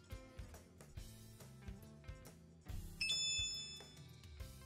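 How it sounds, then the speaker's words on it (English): Over soft background music, a brief high chime rings out once, bright and clear, like a doorbell, then fades. "rang the doorbell and waited"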